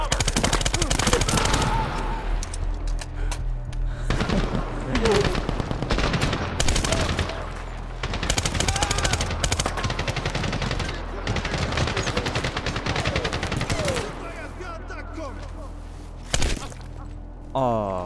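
Sustained gunfire from the Medal of Honor (2010) video game, with dense machine-gun bursts and rapid single shots crackling almost continuously at close range for the whole stretch, with occasional voices beneath.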